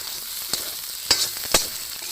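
Eggs frying in hot oil give a close, steady sizzle broken by three sharp crackling pops.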